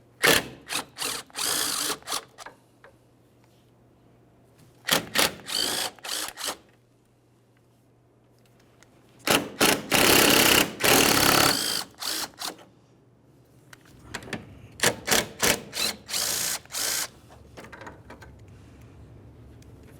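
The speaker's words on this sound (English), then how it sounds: "we'll continue on by removing 4 10mm headed mounting bolts" Loud whirring bursts from a power tool backing out 10mm mounting bolts on a 2012-2018 Nissan Altima 2.5L during AC condenser replacement, in four separated runs of rapid stuttering pulses with quiet gaps, close up.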